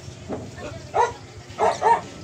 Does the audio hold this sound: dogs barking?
yes